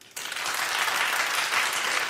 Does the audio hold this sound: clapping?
yes